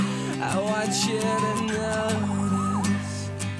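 A wailing siren sweeps up and down continuously, loud and fairly near, with a low engine-like hum underneath.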